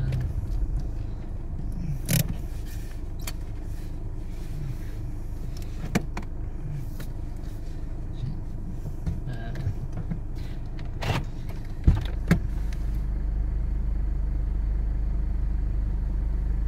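A 4x4 off-roader stuck in a foot of deep snow on a snowed-over road revs and strains with its wheels spinning, a low engine drone with scattered knocks and bumps, then a louder steady rumble near the end.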